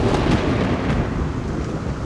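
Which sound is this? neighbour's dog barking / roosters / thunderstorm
thunderstorm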